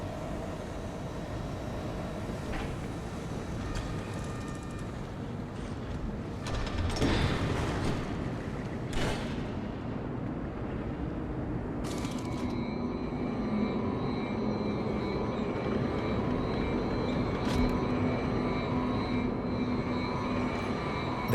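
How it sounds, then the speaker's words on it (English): A waste recycling conveyor in an industrial area of the video game Beyond a Steel Sky gives a steady, loud mechanical rumble and whir throughout, with occasional clanks and a sharper surge partway through. "The conveyor appeared to be part of a waste recycling system."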